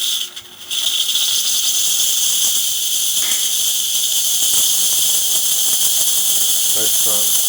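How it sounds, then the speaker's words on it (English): The steam wand on a DeLonghi Magnifica XS espresso machine hisses loud and steady after a full tune-up, with a brief dip at the start, then a constant strong jet of steam. "Nice strong steam."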